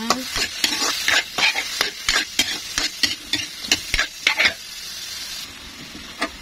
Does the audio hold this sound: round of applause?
no